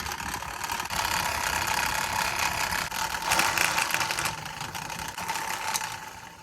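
A noisy, rattling electric fan runs steadily nearby, its whir carrying a loose clattering buzz that swells and eases slightly throughout, with no talking.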